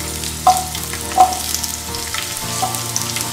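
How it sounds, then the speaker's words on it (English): Garlic, ginger, onions and tomatoes frying in hot oil in a pan, with a steady close sizzle and a couple of sharper stirring clinks early on. "I'll roast them till they turn brown."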